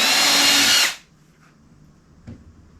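A power drill whirs loudly for about a second while pre-drilling into wood for an Adirondack chair build, then stops abruptly, leaving quiet with a faint knock.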